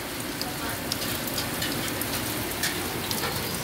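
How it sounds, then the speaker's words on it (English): Rain pours down in a constant, even hiss of drops striking surfaces, fairly close and uninterrupted, with no voices. "Yes, it's raining."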